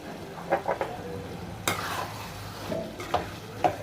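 A spoon stirs chicken masala with curry leaves and green chillies in a frying pan, scraping and clinking against the metal over a steady sizzle, with several distinct knocks.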